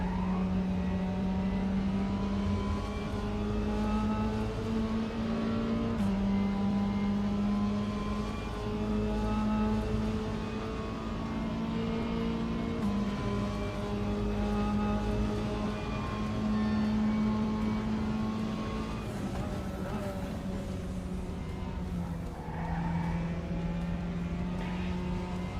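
A Mazda MX-5 race car in a racing video game drones steadily at high revs for the whole stretch, its engine pitch shifting slightly through gear changes, with tire noise underneath and no talk.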